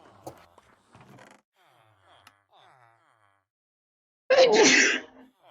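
One loud, sudden sneeze near the microphone at the end, following soft, scattered talk between players during a Minecraft session.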